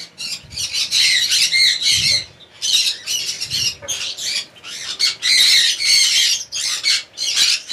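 Young sun conure parrots, roughly six to seven months old, squawk at a bird breeding farm in Santragachi, Howrah: a loud, dense chorus of shrill, overlapping calls that runs continuously with no voices.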